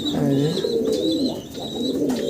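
Racing pigeons coo up close in deep, rolling, repeated calls, with faint higher chirps and brief clicks between them.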